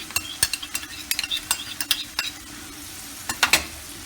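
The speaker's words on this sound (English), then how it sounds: "Now I'm gonna simmer it." Garlic chicken with soy sauce and ketchup simmers and sizzles in a pan while a utensil stirs it, tapping and scraping in quick repeated clicks over a steady background hiss, close and with no voices.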